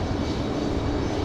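A CRJ regional jet departing from Raleigh-Durham International roars in a broad, steady wash of engine noise, loud and continuous without any voices.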